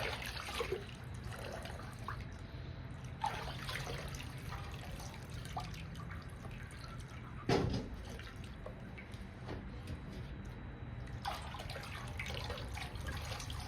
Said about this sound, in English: Just giving him a bath.